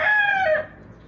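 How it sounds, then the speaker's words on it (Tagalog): A rooster crows once in a short, loud, close call with a rising and falling pitch, then breaks off into quiet farmyard background. "napakain ko na itong mga salbahe kong tandang"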